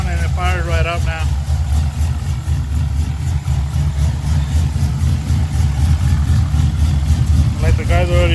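An LSA-swapped truck engine idles steadily with a low, even rumble that runs the whole time, while a voice talks briefly at the start and again at the end.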